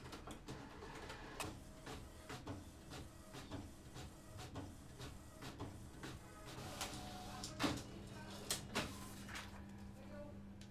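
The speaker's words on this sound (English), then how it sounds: "And you can hear the sound of my printer." Wireless printer connected through a Raspberry Pi printing a page, with quiet repeated clicks and mechanical ticks over a low steady hum, soft and close.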